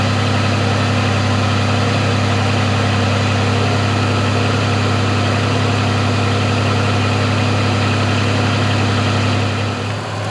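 A car with a 4T65E automatic transmission runs in neutral while warming up, a loud steady low engine idle with constant droning hum and no change in rhythm, briefly dipping at the very end.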